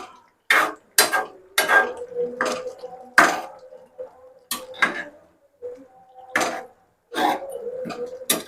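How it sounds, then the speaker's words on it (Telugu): Ginger paste being stirred into chicken curry in a pot, a series of distinct metallic spoon clinks and scrapes against the pot in irregular strokes, close and clear with quiet gaps between. "అల్లం పేస్ట్ వేసిన తర్వాత ఒకసారి బాగా కలుపుకుందాం"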